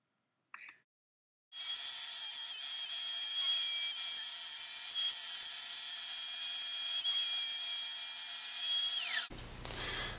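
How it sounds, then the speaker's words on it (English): A router cuts the control cavity channel about half an inch deep into a Les Paul guitar body, a steady loud high-pitched whine with no talking that holds for about eight seconds and then stops. "So here I route out the control channel."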